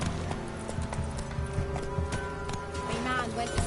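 Hooves of the horse Roach clip-clop at a gallop in The Witcher 3 on PS4, a steady rhythmic beat with a brief whinny, mixed with in-game voices and background music.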